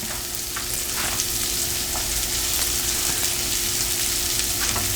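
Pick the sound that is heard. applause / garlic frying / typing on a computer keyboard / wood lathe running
garlic frying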